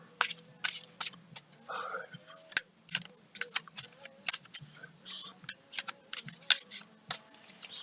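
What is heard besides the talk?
shuffling a deck of tarot cards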